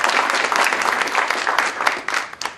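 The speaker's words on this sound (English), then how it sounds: "Just give them a round of applause." Steady, dense applause from an outdoor crowd at a community groundbreaking ceremony for a new Safeway, close and loud throughout with no break.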